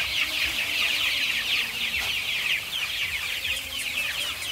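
A flock of young chicks, about one to twenty-five days old, kept in a brooder pen on a free-range chicken farm, cheeping and clucking continuously in a dense, busy chorus close by.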